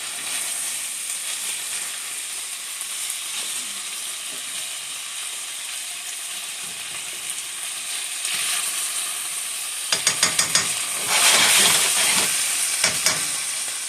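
Spare rib tips sizzling and frying in a pan, a steady bright hiss throughout with a few louder crackles and stirring bursts near the end.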